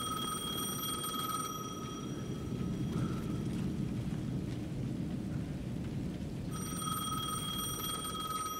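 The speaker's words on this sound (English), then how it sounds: "The payphone was ringing again." A payphone rings in the video game Alan Wake 2, a steady electronic trill repeating over heavy rain and rolling thunder, dropping out midway and returning near the end.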